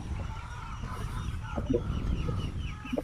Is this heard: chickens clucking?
yes